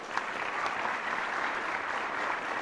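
A studio audience on a political talk show applauds in a steady, even burst of clapping that holds at a constant level from start to finish.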